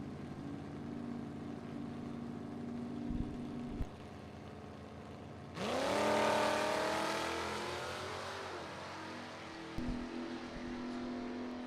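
Drag racing cars, one a Mustang, launching and roaring down the strip in a Super Pro bracket race: idling engines, then a loud, sustained surge of revving acceleration that fades as the cars pull away, with engines idling again afterward.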